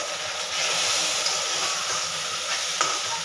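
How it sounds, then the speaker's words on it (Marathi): Hot milk poured a little at a time into roasted dry fruits in a hot pan, giving a steady loud sizzle and hiss that holds throughout with no talk. "आपलं जे गरम दूध होतं ते थोडं थोडं ॲड करायचं"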